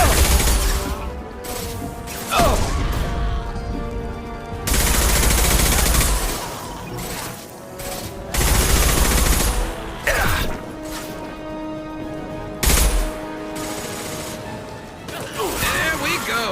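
Heavy automatic gunfire blazes in Mass Effect 2 during a fight at a krogan hospital, loud sustained bursts broken by short pauses and impacts, repeating across the stretch.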